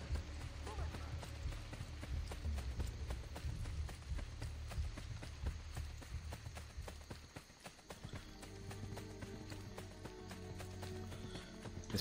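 Rhythmic hoofbeats of a galloping horse in the video game Assassin's Creed Brotherhood clatter steadily, slowing briefly before resuming, with game music and faint speech underneath.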